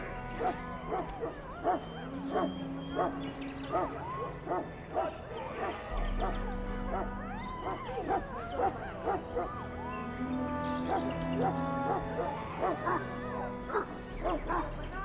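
A Mabari hound in the video game Dragon Age barks and yips repeatedly in quick bursts, with whimpers in between, set against background music, with speech mixed in.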